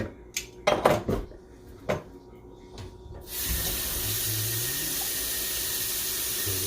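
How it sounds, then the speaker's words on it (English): Liquid drains off an opened can of Rotel tomatoes into a kitchen sink, a steady running-water rush after a few clanks and knocks of the can and dishes. "Drain the Rotel, it's pretty runny, so drain some of the juices off."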